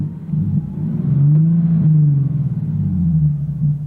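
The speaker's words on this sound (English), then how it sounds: "370Z, 2012. Let's diagnose and we'll rev it up a little." A 2012 Nissan 370Z with a six-speed manual is revved, its engine rumbling low and steady as the pitch climbs and sweeps back down, then settles into a throbbing idle, close with no speech.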